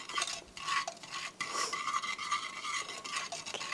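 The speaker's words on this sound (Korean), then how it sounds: "설탕이 녹으면서 같이 섞여지니까 살살 섞어주세요" A spoon stirs cocoa powder and sugar in a pot for chocolate syrup, giving repeated close scraping and clinking strokes in an uneven rhythm, with a faint sizzle beneath and no speech.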